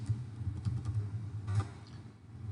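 Quick, uneven keystrokes on a computer keyboard, typed close by into a web search, with soft clicks clustered in short bursts over a low steady hum.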